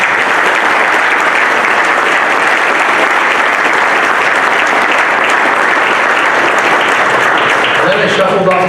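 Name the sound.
audience applause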